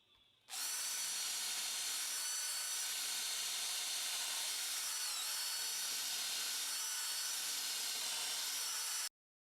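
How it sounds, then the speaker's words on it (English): A power drill drives wood screws into the toggle clamp mounts of a wooden shaper jig, whirring loud and steady for about nine seconds after a brief quiet start, then cutting off abruptly. "Now I'm fitting the mounts with wood screws."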